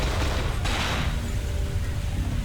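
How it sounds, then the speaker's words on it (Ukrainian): Gunfire aimed at the player in the survival horror game Cold Fear, a dense, rumbling burst with a sharper crack near the start, loud and steady throughout the short stretch. "Так, по мені вже стріляють."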